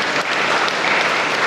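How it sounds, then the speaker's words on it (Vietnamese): Loud, dense applause from a church congregation fills the whole short stretch, a steady wash of many hands clapping together with no voices on top. "Một tràng pháo tay thật to."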